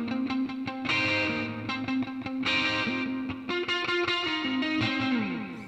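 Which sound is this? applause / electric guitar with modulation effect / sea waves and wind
electric guitar with modulation effect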